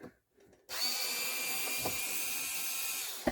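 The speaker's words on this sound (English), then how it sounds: "Let's take out these screws together." Screws are driven out of the underside of a Pioneer PL-115D turntable with a power driver, a close, steady high whine that starts abruptly after a brief quiet moment and runs on, ending with a small knock.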